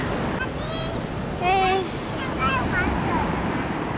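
Sea surf washes steadily at a beach in Taiwan where children are playing in the water, a constant broad rush under excited young voices and adult talk.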